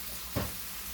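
Bacon frying in a hot pan for a breakfast sandwich, a soft steady sizzle with one brief louder crackling burst, close and fairly quiet, no talking.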